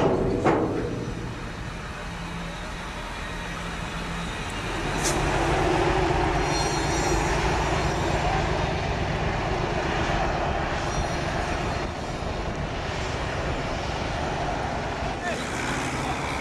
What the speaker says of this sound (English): Son train est réputé être le plus long du monde.